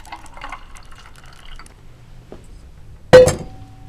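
Cannabis vegetable juice poured into glasses over ice, with faint trickling and light clinks, then one sharp bright glass clink near the end, close up and with no talk.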